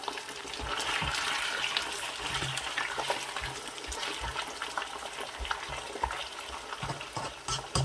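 Meat dropped into a pot of light-brown frying onions for Balochi biryani sizzles in a steady, close frying hiss, with scraping stir strokes and occasional thumps throughout.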